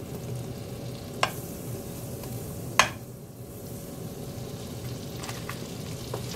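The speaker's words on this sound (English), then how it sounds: "Igisa ko yung sibuyas na yan." Chopped onion sautéing in a tablespoon of margarine, a steady soft frying hiss throughout with two sharp utensil clicks partway and a few faint taps near the end; no voices.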